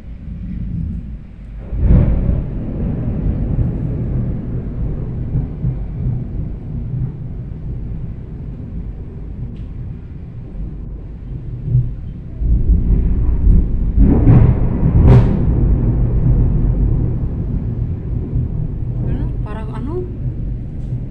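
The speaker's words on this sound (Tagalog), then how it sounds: "At yung kulog ay patuloy pa rin na malakas." Deep rumbling thunder rolling under constant heavy rain noise, with a louder crack-like burst partway through; a person speaks briefly.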